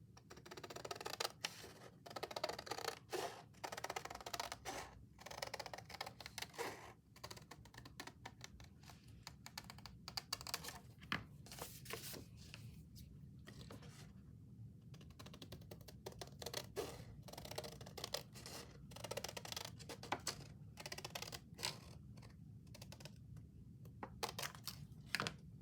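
Scissors snipping through craft material for a handmade project, a steady run of crisp, close cuts and rustles repeating throughout with short pauses, alone without talk.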